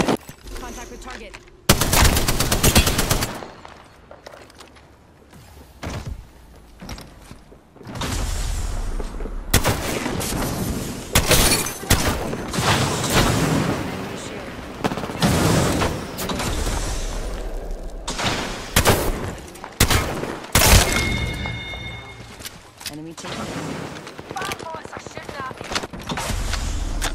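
Gunfire in the video game Apex Legends, with shotgun blasts and rapid bursts in clusters of loud, sharp shots between short quiet gaps, mixed with game effects and a voice talking over the action.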